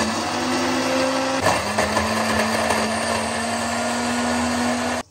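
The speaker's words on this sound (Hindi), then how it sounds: "इन्हें ब्लेंडर में हम मजीद छोटा करने के लिए ब्लेंड कर लेंगे।" A blender grinding bread into crumbs whirs loudly and continuously, its motor pitch dropping briefly as it catches, then grinding steadily for several seconds before stopping abruptly.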